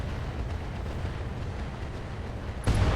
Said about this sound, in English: that's a cluster ammo explosion and one dead Emperor